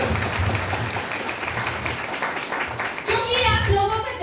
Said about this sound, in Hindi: आप सबके लिए एक जोरदार ताली।